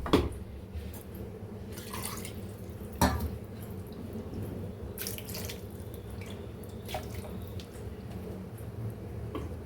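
Water is poured and stirred into a thick South Indian cauliflower and sweet potato kola gravy in a pan, giving a steady splashing, trickling flow with a few sharper clinks near the start.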